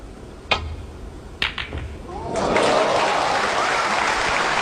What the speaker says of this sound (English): The applause from the crowd there, well merited.